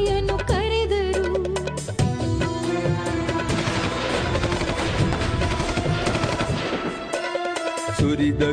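A gunfire sound effect stands for British troops firing on protesters, with rapid machine-gun-like bursts of shots layered over loud dramatic music.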